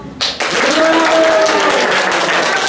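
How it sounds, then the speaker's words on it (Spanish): Audience at a celebration breaking into loud, sustained applause, a dense wash of clapping from a large group that carries on without letting up, with some voices mixed in. "den su fuerte aplauso"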